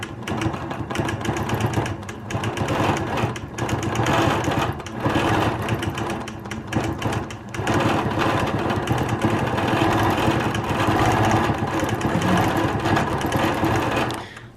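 A quilting sewing machine stitches fabric in steady, close motor-driven runs, its loud buzzing hum broken by a few short pauses before resuming.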